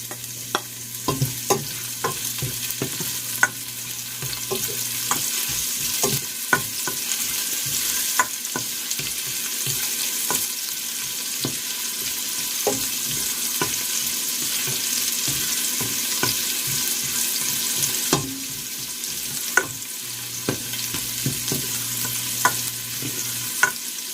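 Onions fry in rendered bacon fat in a pan, a continuous loud sizzle broken by repeated sharp clicks and scrapes of a spoon stirring, with no voices.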